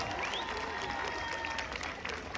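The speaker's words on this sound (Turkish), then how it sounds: "Büyük alkışlarla şampiyonu alkışlıyoruz." Crowd applause for a champion at a football trophy celebration in Beykoz, a steady dense clapping wash with faint voices mixed in.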